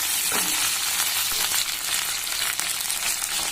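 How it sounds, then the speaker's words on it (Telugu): Green chilies and vegetables fry in hot oil for a Rayalaseema-style sambar, giving a steady, close, loud crackling sizzle with occasional stirring scrapes and no voices. "కొత్తిమిరపకాయలు కూడా వేసేసాను. బాగా వేగాలి."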